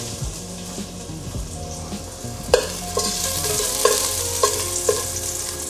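Garlic sizzles in hot oil in a pan, steady frying with sharp stirring scrapes and clinks of a utensil against the pan, close and fairly loud, for a beef and vegetable stir fry.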